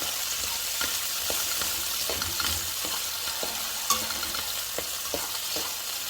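Onion sizzles in a hot pan with a steady hiss, broken by regular scraping taps as it is stirred, close and continuous.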